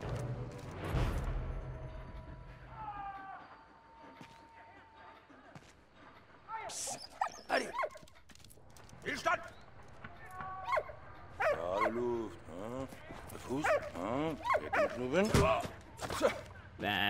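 Dog barking in the World War I game Valiant Hearts: The Great War, several short yips and barks scattered amid game sounds, with someone talking over parts.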